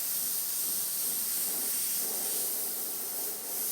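Steady airbrush hiss spraying paint onto stretchy skulls, a continuous broadband rush lasting the whole stretch with only a slight dip near the end, close and uninterrupted, with no voices over it.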